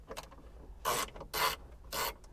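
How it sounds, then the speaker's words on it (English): Motor cover bolts coming off a motor: three short, close rasping turns of a tool, each lasting about a quarter second, with faint clicks between them and no voices. "First thing we're going to do is remove these motor cover bolts."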